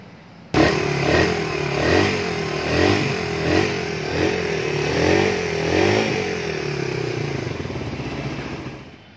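A Suzuki Raider 150 motorcycle engine, just rebuilt with stock parts, starts and runs loud and close, revving in several rhythmic swells over a steady idle with mechanical clatter.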